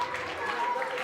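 An audience at a school conference claps for children, a brief, dense patter of applause at moderate distance.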